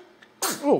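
A baby gives one short, sharp sneeze partway through, followed right away by an adult's voice.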